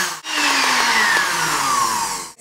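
A blender whirs steadily while mixing chilled coconut cream, a loud continuous motor whine that slowly drops in pitch as the cream thickens, starting and stopping abruptly.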